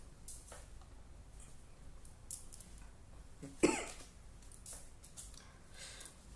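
A single short cough rings out in a quiet room, preceded and followed by faint rustling and soft background noise.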